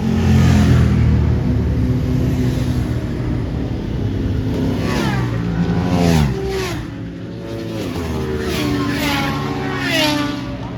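A racing motorbike being taken to a Donington Park club race meeting revs loudly near a garage, then pulls away. Its engine note rises and falls through several gear-change sweeps.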